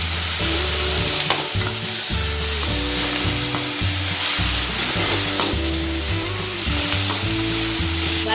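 Pirandai and thoodhuvalai sautéing in a pan for thuvaiyal, a continuous loud sizzle close by, broken by a regular rhythm of scraping, stirring strokes against the metal.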